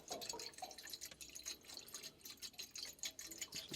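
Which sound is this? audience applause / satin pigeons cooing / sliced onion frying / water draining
water draining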